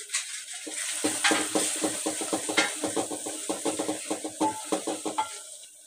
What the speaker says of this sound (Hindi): चम्मच हिलाते जाएंगे और इसी तरह मसाला भूनेंगे